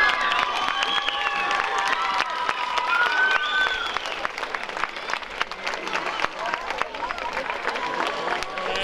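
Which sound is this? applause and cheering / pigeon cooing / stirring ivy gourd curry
applause and cheering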